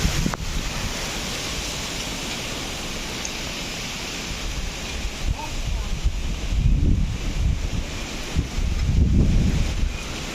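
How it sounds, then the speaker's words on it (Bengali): Strong cyclone winds during Cyclone Remal roar outdoors in a continuous rushing noise, with heavier gusts buffeting the microphone and swelling louder toward the end. "বিরাট বাতাস আসছে"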